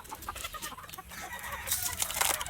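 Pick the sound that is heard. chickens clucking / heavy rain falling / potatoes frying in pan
chickens clucking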